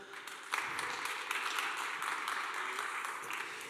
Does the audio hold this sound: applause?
yes